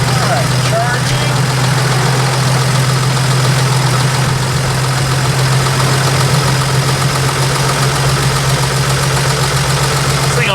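A Willys Wagon's flathead engine idles at a steady, even pace, with a continuous low rumble and a faint knocking undertone throughout.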